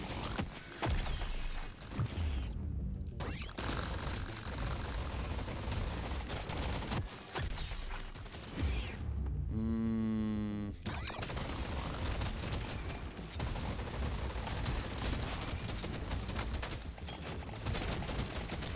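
Rapid, dense gunfire from the Deep Rock Galactic Survivor video game, a loud continuous barrage of shots and blasts running almost without pause, with a brief lull and a short electronic burst partway through.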